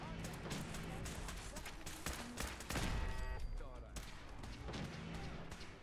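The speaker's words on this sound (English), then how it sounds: "What is shooting?" Enemy gunfire during a Fallout 4 assault on the Institute stronghold: clustered rapid shots and bursts crackle throughout, fairly close and sharp, with a voice talking over the shooting.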